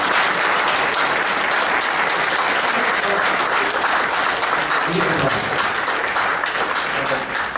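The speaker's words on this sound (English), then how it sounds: "Let's give Dr. J. Quade another big round of applause" An audience at a science lecture breaks into steady, full applause, a dense roar of many hands clapping that holds throughout, with faint voices mixed in.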